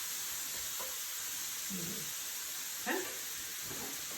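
Pork for a stir fry sizzles and browns in a hot pan, a faint steady hiss broken by a few soft stirring scrapes, with one brief spoken word.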